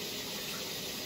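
Steady broadband hiss of shower water running in a home bathroom, continuous and fairly soft with no talking.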